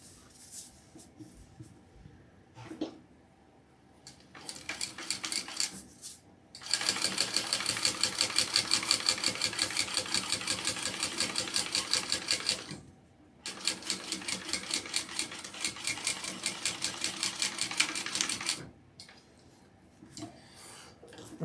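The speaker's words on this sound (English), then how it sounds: "now I'm going to sew that at my full seam allowance" Close domestic sewing machine running a seam through vinyl in two long, steady bursts of rapid stitching, with brief quieter stops and starts of handling before, between and after, and nobody speaking.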